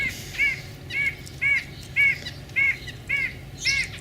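Bird calling in a garden: a series of about seven harsh, crow-like caws repeated at a steady rhythm, clear and moderately close, with no talk.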